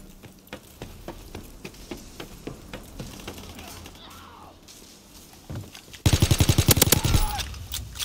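Video game gunfire with a steady background of faint shots and clatter, then a loud, fast run of automatic fire close up near the end from a light-recoil weapon.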